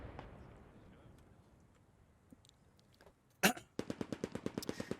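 Machine gun laying down suppressive fire in the WWII game Post Scriptum: after a sharp crack, a steady rapid burst of evenly spaced shots rings out fairly close, following quiet ambient noise.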